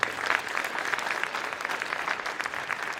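A crowd at a high school basketball game applauds with dense, continuous clapping that holds steady throughout, moderately loud and slightly distant.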